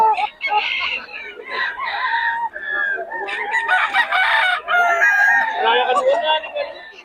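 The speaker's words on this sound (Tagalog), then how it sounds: "Nagugulang ng mga manok ni Boss Joseph, ang idol." A crowd of chickens clucks and squawks continuously, with roosters crowing among them, loud and close throughout, at a chicken seller's in Bocaue, Philippines.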